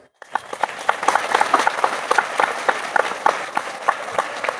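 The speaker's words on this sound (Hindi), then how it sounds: "एक बार ताली बजाइए जरा।" An audience at a Hindu sammelan at Baijnath Dham, Mahauli, breaks into scattered, uneven hand clapping that starts abruptly and continues irregularly as individual claps pop out of the crowd.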